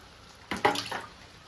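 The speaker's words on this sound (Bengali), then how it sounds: "এবার আমি এখানে জল দিয়ে দেবো।" Water is poured into a cooking pot while making a Bengali chalta (elephant apple) dish, a short close splash and trickle of about one second that rises abruptly and fades.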